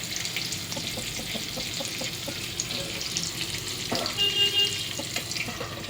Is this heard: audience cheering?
no